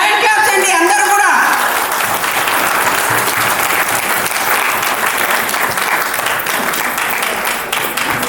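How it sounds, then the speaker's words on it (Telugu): Large audience applauding at a company anniversary event at Ramoji Film City, a loud sustained burst of many hands clapping, steady throughout with some voices mixed in. "గ్రాండ్ క్లాప్స్ అండి అందరూ కూడా."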